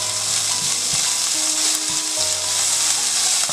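Onions and finely chopped fenugreek leaves fry in a pan with a steady, close hiss and sizzle, broken by occasional scraping and stirring sounds, with no voices.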